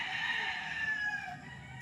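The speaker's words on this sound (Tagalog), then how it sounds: "dito sila nagtitraining ng mga manok nila" Gamecock on a training farm in Nagcarlan gives one long crow at moderate distance, fading out at the end against soft outdoor background noise.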